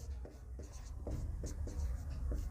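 Pen scratching across paper while a maths problem is worked out, a steady run of short strokes at close range, fairly quiet and with no talk over it.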